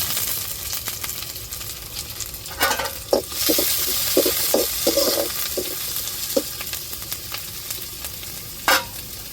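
Tuna sukka masala with curry leaves sautés in a pan with a constant sizzle, broken by a run of clinking spoon stirs and scrapes against the metal, close by and without talk.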